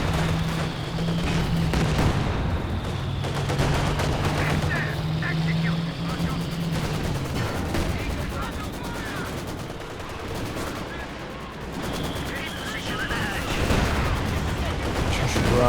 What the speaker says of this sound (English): Barrage out the back and a bit of heavy mortar fire back there as well.